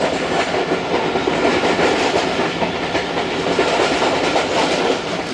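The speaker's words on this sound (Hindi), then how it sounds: "वज़ीराबाद रेलवे स्टेशन पहुंच गई है ट्रेन" The Jaffar Express pulls into Wazirabad railway station with a loud, steady rumble and rhythmic clickety-clack of wheels over rail joints, continuous and close throughout, with no voices.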